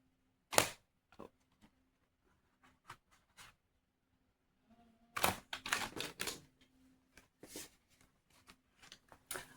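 Tarot cards are shuffled by hand in scattered crisp riffles and slaps, with a denser flurry of card snaps midway, close and fairly quiet, with no talk.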